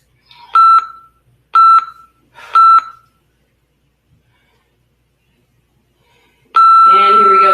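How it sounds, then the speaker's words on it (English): Three loud electronic beeps from a Tabata workout interval timer sound in steady succession, followed after a pause by a longer sustained tone with other noise; nothing else is heard between. "There's a slight delay in the timer again"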